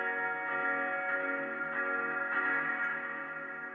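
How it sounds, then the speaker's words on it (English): Reverb effect in Ableton Live on a sustained harmonic tone, a 100% wet signal with a smooth, washy tail holding steadily throughout, with no talking. "Here's what it sounds like with just the reverb."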